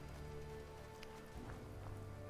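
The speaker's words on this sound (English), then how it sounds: "And it's raining." Rain in the video game Fallout 4, falling at a settlement, with a continuous soft patter and a few faint droplet ticks, heard alone at low volume.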